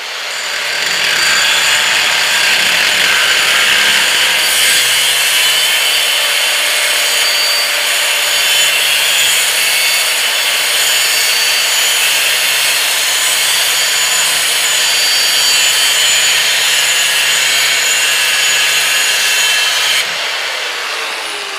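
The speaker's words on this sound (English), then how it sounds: "we need to take a regular abrasive wheel and cut through and see if it does any better" A regular abrasive cut-off wheel cuts through metal, producing a loud, sustained, harsh grinding screech close up that runs steadily for about twenty seconds with no talking.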